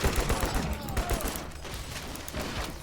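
Rapid automatic gunfire in Crysis, dense bursts of shots rattling close and loud for a few seconds amid battle noise.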